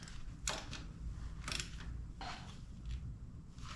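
A ratchet tightens a side bolt on a Ducati front sprocket, with three or four short clicking bursts spaced about a second apart, faint and close.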